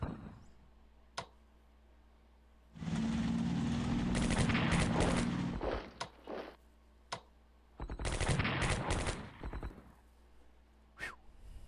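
Bursts of gunfire from the war strategy game Strategic Command WW2: War In The Pacific: a long sustained machine-gun volley, then scattered single shots and a second rattling burst, with quiet ticks in between.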